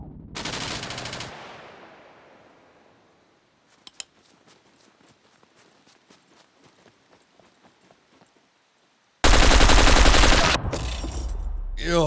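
Gunfire from the player's favorite gun in the survival game SCUM: a loud burst of rapid automatic fire up front, a few faint isolated clicks and taps, then another long, loud burst near the end.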